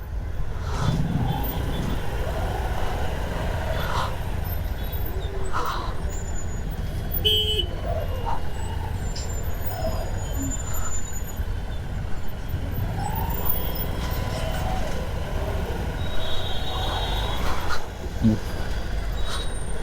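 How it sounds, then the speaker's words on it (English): Dense road traffic rumbles steadily nearby, with several short horn honks and squeals scattered through the continuous engine noise. "Why is so much traffic today?"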